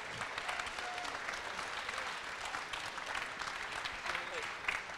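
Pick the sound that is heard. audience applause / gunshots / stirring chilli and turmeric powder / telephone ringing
audience applause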